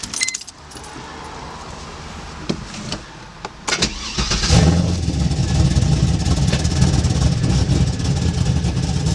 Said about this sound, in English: So let me see if the car wants to start.